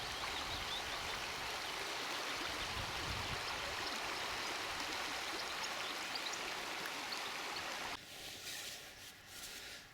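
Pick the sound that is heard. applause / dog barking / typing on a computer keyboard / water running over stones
water running over stones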